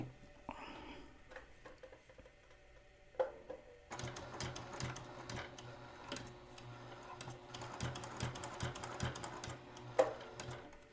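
Sewing machine stitching around the edge of a fabric corner bookmark, a rapid mechanical ticking run that starts after a few quiet handling sounds and continues in close bursts with brief pauses.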